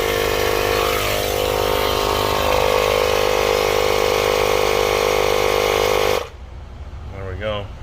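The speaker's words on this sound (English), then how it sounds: "That pump's about to shut off anyway," An electric air pump inflates a vehicle tire to 60 PSI, droning loud and steady with a constant mechanical hum before cutting off abruptly near the end, leaving quieter background and a brief voice.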